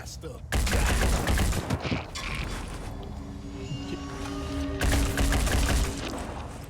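Gunfire from soldiers shooting at aliens in the turn-based tactics game Phoenix Point, including machine-gun fire: loud bursts of rapid shots open and close the passage, with quieter mechanical clatter and tones between them.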